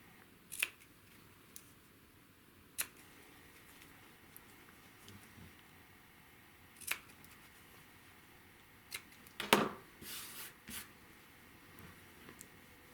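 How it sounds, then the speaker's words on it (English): Rotary cutter and quilting ruler trimming small nubs off quilt block fabric pieces, a handful of short crisp cuts and clicks spaced apart over quiet background, with a brief cluster of louder slicing near the end. "I cut them even with the square, the top of the square."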